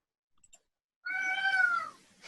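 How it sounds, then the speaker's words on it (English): A cat meows once in a single drawn-out, clear call, close and fairly loud, after a moment of near silence with a couple of faint ticks. "He's got a cat."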